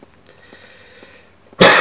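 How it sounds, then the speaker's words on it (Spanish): A single sudden, loud burst of a cough or sneeze from one person near the microphone, arriving after a quiet stretch and cut off at the end. "La buena tos volviendo como siempre."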